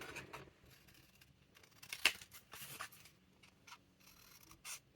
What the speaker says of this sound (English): we're going to cut out these boxes